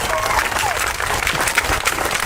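A crowd at a peaceful downtown Dallas protest for George Floyd applauds, a steady wash of clapping under a speaker's raised voice.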